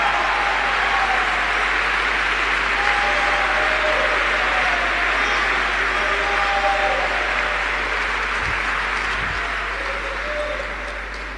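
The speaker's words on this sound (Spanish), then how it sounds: "Dale un aplauso al Señor Jesucristo." A church congregation applauding during a Spanish-language sermon, a long, steady roar of many hands that tapers slightly near the end, over a constant low hum.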